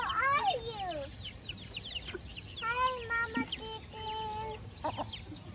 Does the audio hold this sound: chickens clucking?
yes